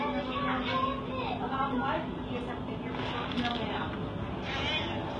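Several cats in an animal shelter meow excitedly at close range, their calls overlapping with people talking and a steady background hum.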